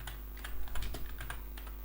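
Keys clatter on a computer keyboard as an SQL insert command is typed, a quick irregular run of close, light clicks over a low steady hum.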